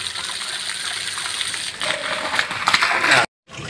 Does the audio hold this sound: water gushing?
yes